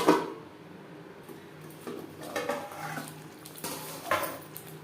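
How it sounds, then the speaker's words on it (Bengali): A spatula scrapes and clinks against a pan as Rui fish curry spice paste is stirred and fried over a low to medium flame, giving intermittent metallic clatter with a soft sizzle underneath and no talking. "মশলা কষিয়ে নেব।"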